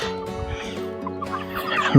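Several chickens in a chicken tractor cluck and murmur close by, a busy continuous chatter of fowl with a louder squawk near the end.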